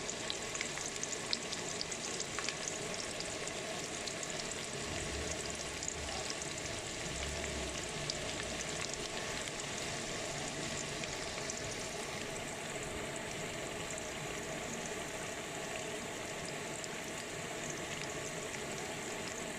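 Onions fry until brown in a pan, giving a dense, continuous sizzle that stays even and loud throughout with no breaks.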